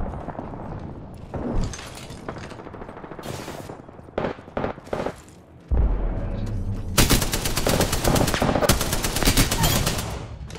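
Spitfire machine gun in the Apex Legends video game, with scattered gunshots early on and then a long, loud, sustained burst of rapid automatic fire filling the last few seconds; a voice speaks briefly.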